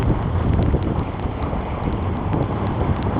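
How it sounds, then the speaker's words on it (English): Strong wind of about 18 to 20 knots rushes over a sailboat under way at sea, a steady, loud, broadband roar buffeting the microphone with no voices. "it's blowing about about 18 to 20 knots right now"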